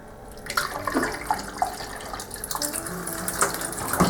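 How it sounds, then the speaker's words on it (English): Distilled water pours steadily into a motorcycle exhaust part to flush it out, giving a continuous splashing, trickling flow with small gurgles and a few louder sloshes near the end. "I'll probably dump some distilled water in that too, help flush it out a little bit"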